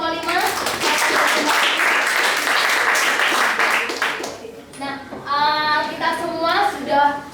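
Classroom applause for a student group rings out as steady, dense clapping for about four seconds, then fades as children's voices and chatter take over.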